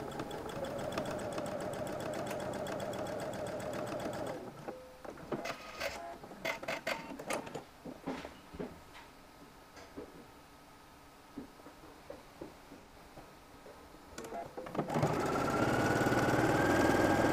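A sewing machine stay stitches the edge of a shirt collar in two loud, steady whirring runs, one at the start and one at the end, separated by a quieter stretch of clicks and fabric handling.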